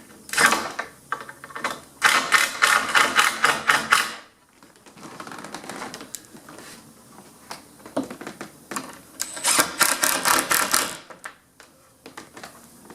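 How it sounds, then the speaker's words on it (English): Screws are driven into the hinges of an interior door jamb kit, giving rapid close bursts of ratcheting, clicking metal chatter in two main runs separated by quieter handling and fumbling sounds. "we'll go ahead and place in all the other screws into the holes"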